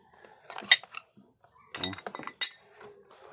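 Metal parts clink and tap while a Sun Racing pulley set is fitted on a scooter, several sharp, close clinks in short bursts separated by quiet gaps.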